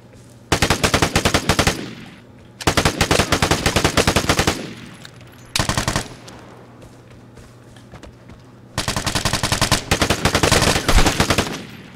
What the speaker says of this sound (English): That was an intense little gunfight between two people.